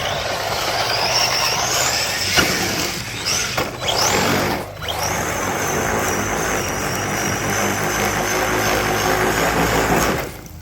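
An ARRMA RC truck running hard, a loud continuous motor whine with high, thin tones that rise and fall, briefly dipping near the middle before the buzzing drone returns, helicopter-like.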